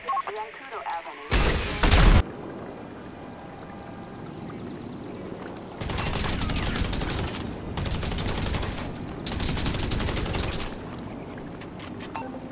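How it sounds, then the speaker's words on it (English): Bursts of automatic gunfire in Grand Theft Auto V, a short loud burst followed by longer sustained volleys with brief gaps between them, plus faint game voices and background activity during the quieter stretches. "Hey, stop shooting up my crib, man."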